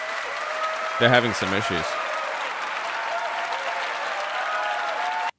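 An audience claps for Phil Schiller as he takes the stage at the Apple iPad mini announcement, a steady, dense wash of applause running throughout, with a brief spoken remark near the start.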